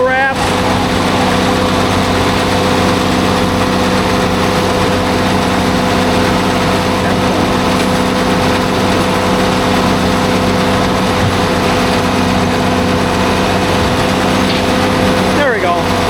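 A bale wrapper runs its auto-wrap cycle on a 54-inch bale while a tractor idles nearby, a loud continuous engine drone with a steady mechanical whir throughout.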